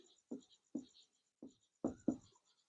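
Chalk scrapes across a classroom board in five short, separate strokes during an English grammar lesson. The strokes are close and crisp, with quiet pauses between them.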